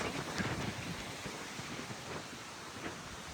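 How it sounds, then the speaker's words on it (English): Steady gusting wind on a mountain in Shenandoah National Park buffets the microphone in a broad, rushing roar, with no voices, constant and close throughout. "It's windy up here."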